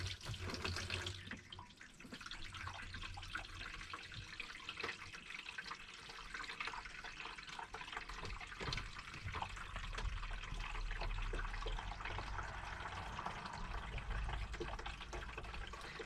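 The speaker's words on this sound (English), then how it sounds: "That's draining okay from the sink," Water draining steadily from a camper van sink down into a wastage tank, a continuous close gurgling rush that holds for the whole stretch without talking.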